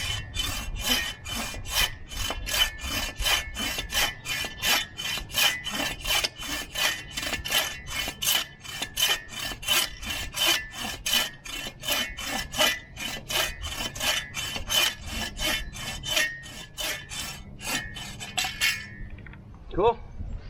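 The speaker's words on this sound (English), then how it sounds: "now let's cut a little section for Firewood" A Sven folding saw cuts a section of firewood, giving a long steady run of rhythmic rasping strokes, close and loud, that stops just before the end.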